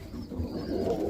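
A roller pigeon cock gives a short, low, throaty coo, fairly close and soft, lasting about a second with no talking.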